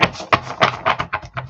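Deck of cards being shuffled by hand, a quick series of crisp riffling bursts and taps in an uneven rhythm, close and alone.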